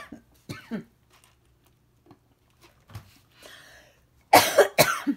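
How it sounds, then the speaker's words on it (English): A few sharp coughs close to the mic, scattered across a quiet stretch, ending with two loud, harsh coughs in quick succession. "Why is it when you get on video, you have to cough?"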